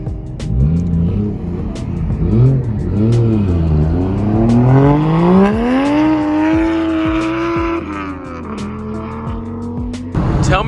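A Nissan S13 with a new exhaust drives past loud and close, its engine note rising and falling through gear changes with a raspy, droning tone before settling into a steady cruise, with faint talk in the background.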